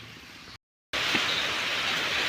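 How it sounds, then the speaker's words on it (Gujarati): Light rain beginning to fall in a village under a single cloud, a steady soft hiss of drops spread evenly across the scene, broken by a brief total dropout before resuming at the same even level. "જો છાટા ચાલુ થયા હોય કેટલોક વરસાદ આવે છે"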